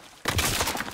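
Rapid gunfire bursts from a sniper rifle and other weapons in the video game Call of Duty: WWII, set in the Hürtgen Forest, start abruptly and crackle loudly in a dense cluster of shots.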